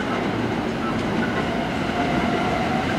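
A JR Kobe Line train pulls into Amagasaki station during the evening rush, giving a steady, dense rumble of wheels and motors that fills the platform, with faint crowd murmur beneath.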